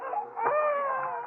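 A radio drama sound effect of a baby crying: a brief, faint wailing cry with a rising and falling tone, heard alone for about a second.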